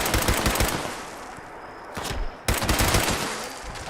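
Rapid, loud bursts of automatic fire from a Berserker explosive pipe rifle in Fallout 76, with dense cracking shots that break off briefly midway and then resume, with no talking.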